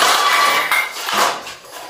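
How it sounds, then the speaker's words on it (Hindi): Metal utensils clattering in the next room, a short burst of clinking and rattling, fairly loud, with no talk over it. "जैसे कोई बर्तन सटका हो।"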